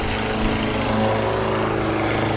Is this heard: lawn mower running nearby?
yes